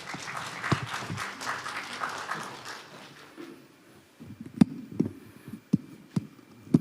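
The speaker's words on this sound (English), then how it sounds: "Please give him a big round of applause." A conference audience applauds a Director General of an international cooperation bureau at a maritime institute session, a dense clapping that fades out, followed by a few sharp isolated knocks or taps.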